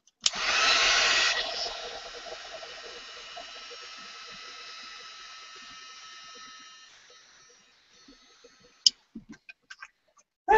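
A hair dryer blows over an art journal page, loud at first and then a steady whir for about seven seconds before cutting off, followed by a few light taps and handling clicks.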